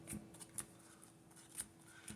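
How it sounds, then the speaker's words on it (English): A deck of trading cards being pile shuffled on a table, heard as faint, sparse soft card taps and slaps scattered through a quiet room tone, with no voices. "I'll go ahead and do that pile shuffle again"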